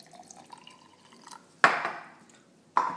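Mineral water poured into a homemade refreshing drink, arriving as two sharp, close splashing bursts with a fizzing tail, the second shorter than the first, over a quiet background.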